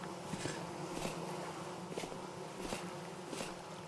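Bees buzz around flowers in the video game Vintage Story, a faint steady drone with soft, regularly spaced rising swells, heard alone without talk.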